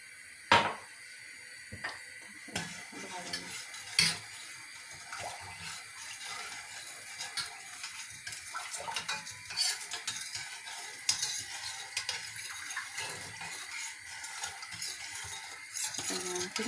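Leftover food being stirred in a pot, with steady soft scraping and scattered metallic clinks over a faint sizzling background, close and continuous with no talk.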